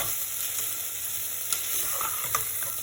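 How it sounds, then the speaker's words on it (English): Garlic and vegetables sauté in a pan for a pumpkin soup, giving an even, soft sizzle with a couple of faint clicks of utensils and no voices. "Let me give you a look how the vegetables are getting sauteed and slowly"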